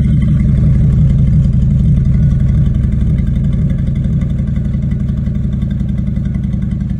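A car engine running on gasoline mixed with vodka idles steadily and loudly, a continuous low rumbling drone throughout with no talking.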